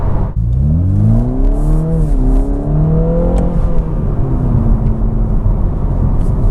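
A Toyota Supra 2.0 with a 255-horsepower engine accelerating hard, a loud, smooth rising drone that climbs through the revs, eases briefly, then pulls again under steady road and wind noise.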